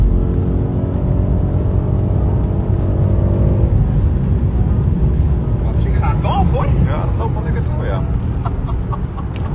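A BMW M8 Competition drives along with a low, steady engine rumble throughout. A voice talks over it in the later part, with other sharp, chirpy sounds mixed in.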